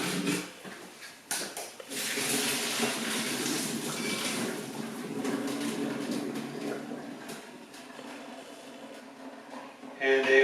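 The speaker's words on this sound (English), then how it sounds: "The vegetables, time to turn those off. And I'll drain them right away." Cooked vegetables for gado gado are drained into a kitchen sink, a steady rush of pouring water and splashing that runs for several seconds at close range, briefly easing before a louder surge at the end.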